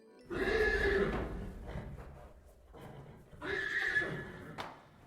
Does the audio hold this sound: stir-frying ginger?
no